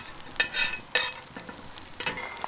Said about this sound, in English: Now that the hash browns are almost done on the bottom side, I'm gonna make a little area here where I'm gonna cook my eggs.